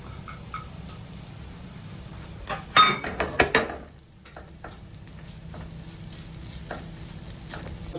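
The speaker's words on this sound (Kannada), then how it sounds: "ಇದೀಗ ನಾವು ತೆಂಗಿನ ತುರಿಯನ್ನು ಫ್ರೈ ಮಾಡಬೇಕು. ಒಳ್ಳೆ ಬ್ರೌನ್ ಕಲರ್ ಬರೋ ತನಕ ಫ್ರೈ ಮಾಡಬೇಕು." Grated coconut fries in oil in a pan for Mangalorean chicken curry, a low steady sizzle with a brief burst of louder crackling and stirring near the middle, no talking.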